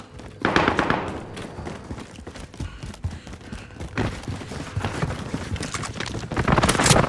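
Gunfire in a Call of Duty match, rapid automatic bursts crackling in two dense stretches, loud and close, with a quieter patch of scattered shots between them and no talking.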